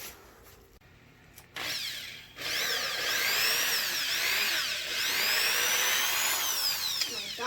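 A power drill spins a valve against its seat during a valve job on a 2002 Volkswagen Jetta 1.8T cylinder head. After a quiet start, a close, loud whine runs steadily with rising and falling pitch sweeps.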